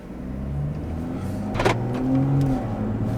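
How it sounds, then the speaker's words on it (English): BMW M140i with a double resonator delete and decat, driving in comfort mode: a steady low engine and road drone from inside the cabin, with a brief mechanical whir midway and no talking. "So we're currently driving in comfort mode."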